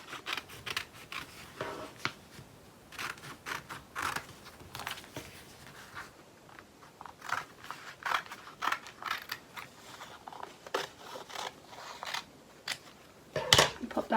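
Scissors snip through material while a bird kit is being prepared, close and fairly quiet. Short crisp cuts and clicks come in an irregular series, with light handling noise between them and no talking.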